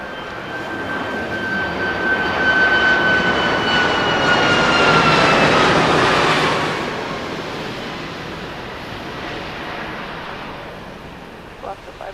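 A Boeing 747-400 cargo jet lands on the north runways at Los Angeles International Airport. Its loud engine roar swells to a peak with a falling whine, then fades into steady distant rumble.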